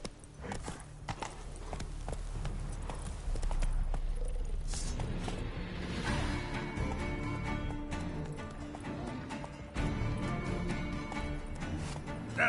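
Roach, a horse in The Witcher 3, gallops in a steady rapid hoof rhythm, loud and close, with game ambience underneath and brief spoken urging between stretches of hoofbeats.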